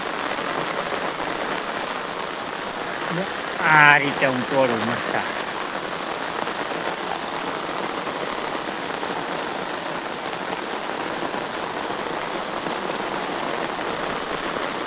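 Steady rain hisses over an open chili field throughout, with a person speaking briefly near the start over the downpour.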